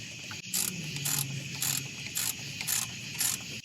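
A ratchet tightens a drive shaft bolt on a VW Mk1/Mk2 transmission, with about six short bursts of rapid close clicking separated by brief pauses.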